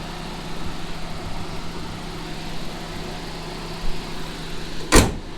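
An early 2000s car with an Ecotec engine idles with a steady low hum, ending in a short sharp mechanical clunk near the close.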